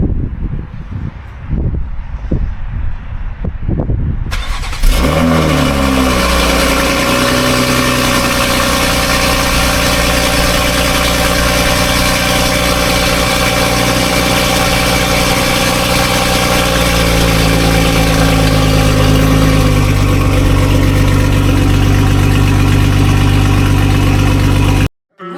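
A Toyota Supra fitted with a catless downpipe starts after some quiet rustling, firing up loudly and settling into a steady, deep, rumbling idle that continues close by until it cuts off at the end.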